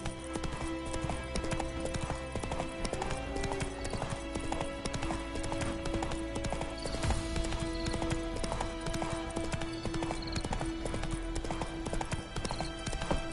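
Horse hooves galloping in The Witcher 3 video game, with a steady, continuous clip-clop rhythm running throughout under a dense layer of game ambience and music, with the occasional faint snort.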